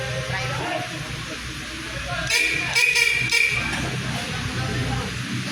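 A car horn sounds in a few short honks over a background of voices and street noise.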